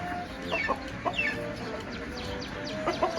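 Chickens cluck in short, scattered bursts over a steady outdoor background, with an occasional higher call. The birds sound moderately close and the level stays fairly low throughout.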